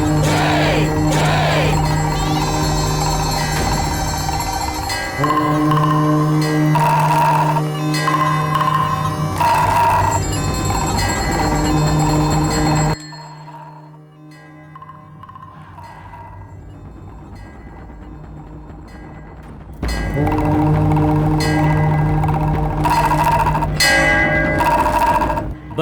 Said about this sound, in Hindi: घंटी और नगाड़ा बजाओ